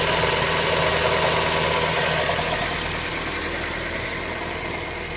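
A Mazda Miata engine idles steadily after a repair that cured its idle vibration, a close, continuous broadband hum and rumble that fades slightly toward the end, with no voices.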